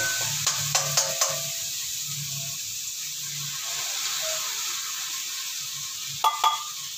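Sardines hit a hot pan with ridged gourd, a steady soft sizzle running throughout and a few light clicks of a utensil stirring against the pan, close and without talk.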